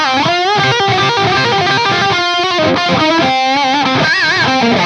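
A PRS SC245 electric guitar played through a Fractal Atomica amp model gives a loud, dry, distorted lead with sustained bent notes and quick phrases, upfront and continuous with no reverb.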